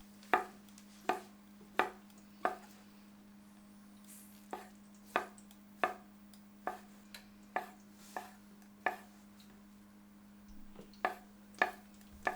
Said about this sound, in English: Thinly sliced shiitake mushrooms.